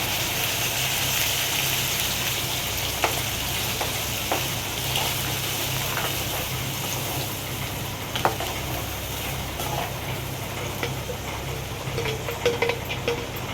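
Masala paste sizzles and fries steadily in hot oil with curry leaves for a biryani-style egg masala, a dense continuous crackle with occasional sharper pops and scraping stirs, close and loud with no talk.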